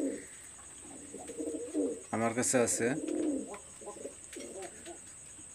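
Red Pahari pigeons, a master breeding pair in a home loft, coo softly behind someone speaking, with one louder burst of cooing in the middle over a steady high-pitched hum.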